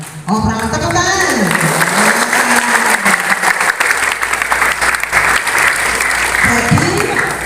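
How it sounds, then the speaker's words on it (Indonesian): At a school orientation opening, a crowd of students in a clapping contest claps loudly and densely, close by, while voices call out over the din. "Oh, perang tepukan."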